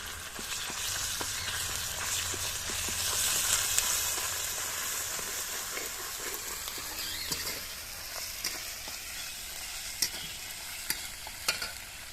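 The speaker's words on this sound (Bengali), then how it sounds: "আদা রসুন বাটাটা দিয়ে ভালো করে নেড়ে চেড়ে নিয়েছি" Ginger garlic paste sizzles in a pan with fried onions for Bengali fish curry, a steady frying hiss broken by repeated scraping clicks of a spoon stirring the mixture.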